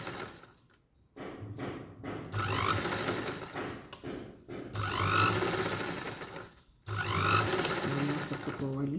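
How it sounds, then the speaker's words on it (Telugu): Sewing machine stitching a work blouse with thick beads, running in bursts with brief pauses between, close and fairly loud, with a voice faintly underneath. "వర్క్ బ్లౌజ్ కుట్టే విధానం"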